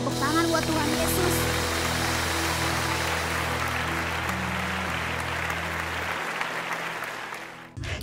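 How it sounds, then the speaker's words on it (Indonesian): Applause for Jesus at an online children's Sunday school, a broad hissing wash of clapping that starts loud and gradually thins out, with a sustained low tone running beneath it before cutting off near the end. "Tepuk tangan buat Tuhan Yesus"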